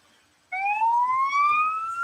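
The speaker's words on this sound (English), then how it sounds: "That turns on the sirens for the ambulance, police cars, fire trucks." A police siren from the BeamNG.drive driving game switches on abruptly and wails loudly with a steadily rising pitch, heard alone without talk.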